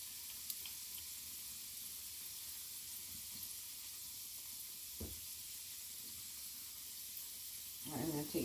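Alkaline dumplings fry in a pan with a soft, steady sizzle and hiss, quiet and continuous, broken by a few faint clinks and a brief louder rustle near the end.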